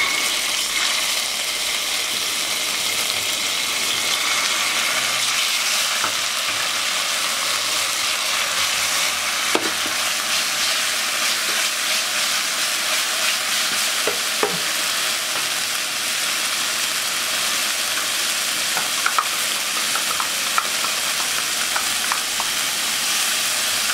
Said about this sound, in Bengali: চিকেনটা দিয়ে আমি মিনিট খানিকের মতো একটু ভেজে নেব।